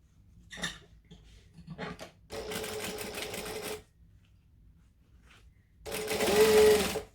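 Sewing machine stitching a unisex sling bag: a few soft clicks and handling taps, then two close bursts of rapid mechanical whirring, each lasting a second or two, separated by a quiet pause.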